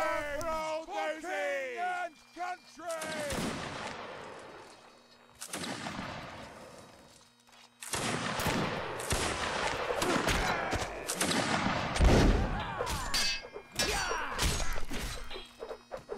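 Musket volleys in a Napoleonic Wars line battle game crack out in bursts amid shouting voices and crowd noise, with loud ragged fire swelling through the middle and later stretches.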